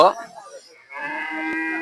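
A calf at a small cattle market in Akkelpur, Joypurhat lets out a short moo, followed by a longer, drawn-out bellow close by, with faint crowd murmur underneath.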